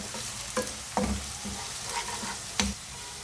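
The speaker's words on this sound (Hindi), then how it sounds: "हरी मिर्ची डाल के मैंने 1 मिनट और फ्राई कर लिया है इसको।" Green chillies and onion frying in a pan for a black chana chaat, a low hiss under a few sharp spoon knocks and scrapes, quiet and close.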